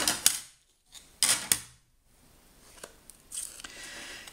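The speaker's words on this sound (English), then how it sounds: "running it through the machine. Backwards and forwards." Small format diecutting machine rolling card sandwiched between plates backwards and forwards, a few sharp clicks and clacks, a brief quiet gap, then faint ratcheting and crinkling, close up.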